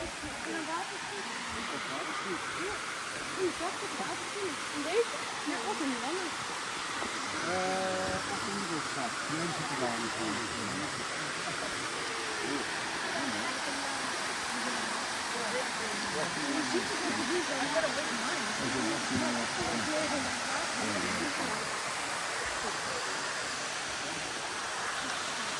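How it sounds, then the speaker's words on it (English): A mountain waterfall in Thailand, the sticky waterfall, roars as a steady broadband wash of falling water throughout, with people talking close by over it. "We've made it to the first waterfall."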